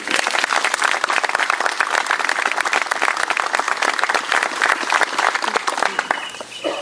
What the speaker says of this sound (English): Can we give Rexel a round of applause?